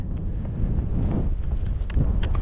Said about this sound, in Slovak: vietor pridal znateľne na sile